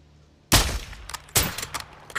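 Two loud, close gunshot bursts about a second apart in the Call of Duty MW2 campaign, each sharp crack trailing into a short echoing rattle.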